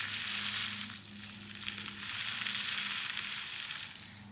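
Small teal glass-like pieces pour into a mix with a dense, hissing, crackling rattle. The sound comes in two sustained bursts separated by a brief lull, and no one speaks.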